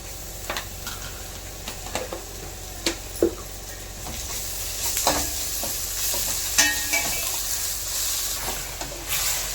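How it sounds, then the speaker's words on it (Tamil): Ginger garlic paste and ground tomato sautéing in a pan for a potato kurma, a steady soft sizzle with occasional stirring scrapes and clinks, close and alone without talk. "இப்போ தான் தக்காளி கொஞ்சம் ஊற்றிருக்கோம் அரைச்சதை. இது நல்லா வதங்கட்டும்."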